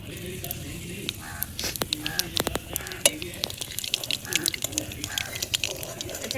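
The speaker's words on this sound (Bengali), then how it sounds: "আমি একটু কালো জিরা ফোড়ন দিয়ে দিচ্ছি" Black cumin seeds tempered in hot oil in a pan on a boat, crackling with sharp scattered pops and a steady sizzle over several seconds, with faint voices in the background.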